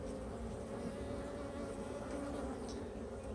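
Honeybees buzzing steadily and close during a hive check, a continuous dense drone that holds level throughout with no talking.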